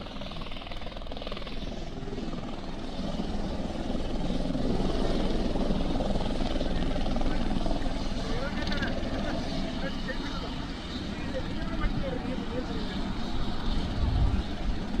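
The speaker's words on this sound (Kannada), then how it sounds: "ಆ ಹೆಲಿಕಾಪ್ಟರ್ ಸುದೀಪ್ ಅವರ ಹೆಲಿಕಾಪ್ಟರ್ ಲ್ಯಾಂಡ್ ಆಗಿಬಿಟ್ಟಿದೆ ಅಂತೆ" A helicopter lands in Raichur, its rotor roar a loud, continuous throbbing wash that holds steady throughout, with voices faintly mixed beneath the noise.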